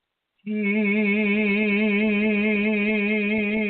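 A single sung tone with vibrato, starting abruptly after a brief silence and held steadily with a gentle, regular waver in pitch throughout.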